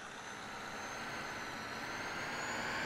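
A steady Ford F350 pickup truck engine drone in Farming Simulator 20 holds at an even level throughout, with no voices, like a vehicle cruising slowly.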